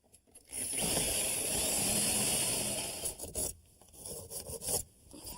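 Old wood framing being cut away during a house renovation, a steady rasping saw-like scrape running loud for about three seconds, then breaking into shorter, uneven strokes and bumps.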